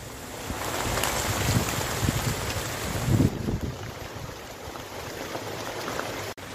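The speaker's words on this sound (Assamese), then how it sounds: "বহুত ডাঙৰ বতাহ দি আছে" Strong morning wind tearing through banana leaves, a loud gusty roar with rustling and buffeting against the microphone, swelling in the middle and easing slightly before an abrupt cut near the end.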